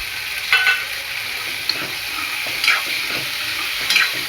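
Green peas being stirred into spices sizzling in a pan, with steady frying hiss and a few brief scraping stirs, close and alone.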